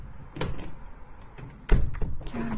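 A door being opened indoors: a few soft knocks and handling sounds, then a firmer thunk of the door swinging open, followed by light rustling and a faint squeak.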